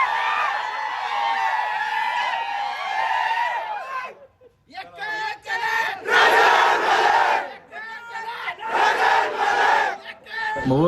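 A large crowd cheers and chants loudly at a BJP election victory celebration for former MLA Rajan Patil in Mohol taluka. The roar is dense and sustained, with a brief dip before it surges back strong.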